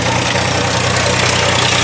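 A tractor engine idles with a loud, steady, rumbling drone that holds constant throughout, close by and uninterrupted, with no voices.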